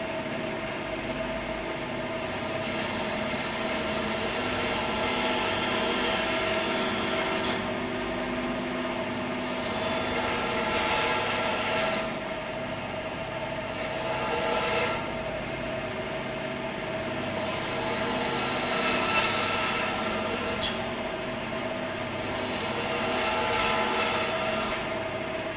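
Band saw cutting through wood as a push stick feeds the piece, a steady mechanical whine with a high squealing edge that swells in several long passes and eases between cuts.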